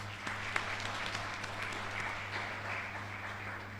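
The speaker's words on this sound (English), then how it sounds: "Shall we give the sponsors a round of applause?" Applause from an audience at an inaugural university lecture in Ghana, a steady wash of clapping over a low hum, moderately distant and even, with a few sharper claps standing out.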